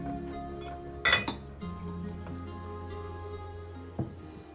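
Ice cubes dropped into a glass for a gin and tonic, giving one sharp bright clink cluster followed by a quieter clink a few seconds later over a steady low background hum.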